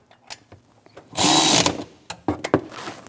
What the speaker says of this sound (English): Snug down the bottom nut.